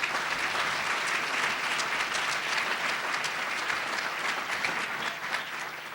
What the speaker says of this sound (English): Would you please give them a warm round of applause?